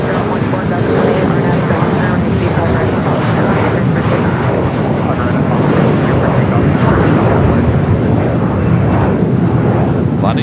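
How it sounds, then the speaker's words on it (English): A Boeing 777 freighter arriving at LAX, heard as a loud, steady broadband jet roar that fills the whole stretch without a break. "The 777 freighter up next for arrival."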